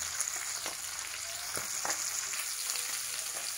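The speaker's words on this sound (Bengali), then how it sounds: "গাইস, দেখতে পাচ্ছেন বাটা মাছটা কীভাবে ভাজা হচ্ছে" Bata fish fries in a pan in a home kitchen, a continuous soft sizzle with a few faint pops and scrapes, close and fairly quiet.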